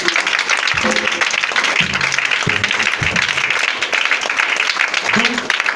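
A church congregation at a French-language service claps and cheers, with loud, continuous applause while a voice speaks over it.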